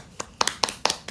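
Hand clapping during a livestream, a few sharp, close claps in quick uneven pairs with brief gaps between them.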